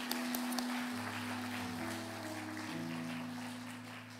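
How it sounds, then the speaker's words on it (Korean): A congregation at a discipleship training graduation service claps, a faint, steady spread of applause underneath sustained organ or keyboard tones. "우리 하나님 앞에 다시 한번 영광의 박수 올려드립니다."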